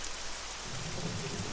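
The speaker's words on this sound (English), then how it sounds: "there's rain, and there's rain clouds" Steady rain pours in Arma 3 on Tanoa Island, a dense, even hiss with a low rumble beneath, close and continuous with no voices.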